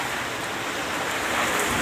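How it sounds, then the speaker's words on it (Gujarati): Heavy rain pours down in a dense, steady hiss with no pauses, loud and close, and no voices are heard. "હજુ વરસાદ રોકાવાનું નામ લેતું નથી."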